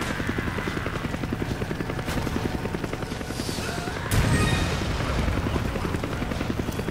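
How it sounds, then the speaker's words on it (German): A helicopter in the video game Resident Evil 5 drones with a steady thudding rotor chop, joined by a sudden loud boom partway through. "Dieser scheiß Heli!"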